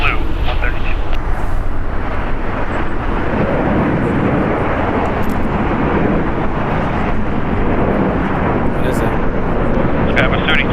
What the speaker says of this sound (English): JetBlue 132, RNAV Docker, runway 25 right, clear for takeoff